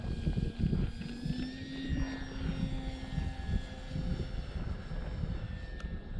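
Bigfoot RC model airplane flying on a windy day, its engine a steady high whine that drifts in pitch with turns, accompanied by constant low wind rumble and buffeting on the microphone.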